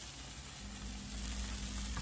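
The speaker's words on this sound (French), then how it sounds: "Quand la poêle est bien chaude, je verse une louche de pâte." Bánh xèo batter, a ladleful poured into a very hot pan, hissing in a steady, dense sizzle that swells slightly louder toward the end.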